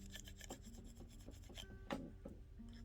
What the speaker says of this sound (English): we can use our agate burnisher to burnish it down around the wire